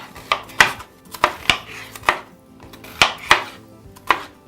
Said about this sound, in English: We're Probably chopping about 1-inch squares.